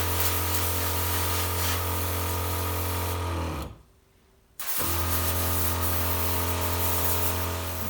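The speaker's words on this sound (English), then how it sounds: "I'm going to do some more spraying." Petra HD5000 sprayer spraying water during a winter car wash in a garage, a loud steady hiss with a constant motor hum that stops for about a second, then resumes.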